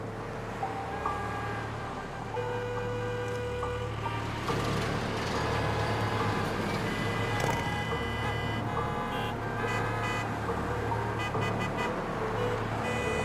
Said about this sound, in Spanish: El silencio era interrumpido por el pitido de los autos que transitaban en las periferias de aquel sitio.